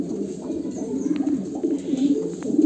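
Racing pigeons, mostly male birds, coo in low, repeated throaty murmurs inside a loft, several birds overlapping close by in a continuous soft burble.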